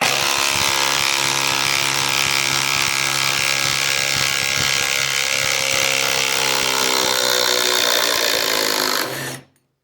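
A Milwaukee M12 Gen3 impact driver hammers steadily as it backs out a large structural lag screw, a loud continuous rattling whir close by that cuts off abruptly at the end.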